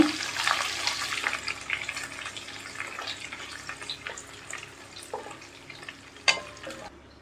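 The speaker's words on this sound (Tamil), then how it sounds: "அடுப்பை லோ ஃப்ளேமில் வச்சு வரமிளகாய் நல்லா வறுத்துக்கோங்க." Oil sizzles and crackles steadily as dry red chillies fry on a low flame for Pallipalayam chicken fry, with occasional stirring clinks and scrapes, close and fairly quiet.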